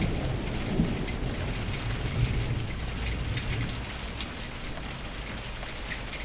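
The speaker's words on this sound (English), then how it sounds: "It's been raining, but it didn't put us off." Steady rain falls on a surface outdoors near a 1957 Ford Thunderbird, a dense continuous patter with occasional sharper drops and a low rumbling undertone throughout.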